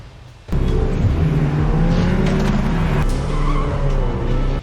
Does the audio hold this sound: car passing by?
yes